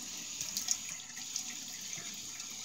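A bathroom tap runs water into a sink for wetting the face before a wet shave, a steady, soft, faint hiss of flowing water with no talk.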